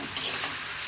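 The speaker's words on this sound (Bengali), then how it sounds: "কষিয়ে আসতেছে।" Curry masala for a green-chilli vegetable curry with potato, pointed gourd and pumpkin sizzles in oil while being stir-fried, a quick scraping stir near the start over a constant close hiss.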